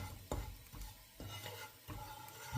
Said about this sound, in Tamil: இப்போ நான் வறுத்து கொண்டிருக்கிறேன்